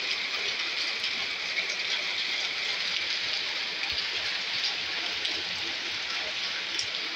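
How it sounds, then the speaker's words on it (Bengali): Heavy rain pours onto areca palm trees and a tin-roofed house in a village, making a constant dense hiss with no breaks, steady and fairly close. "দেখো বৃষ্টি পড়ছে ঝমঝম করে"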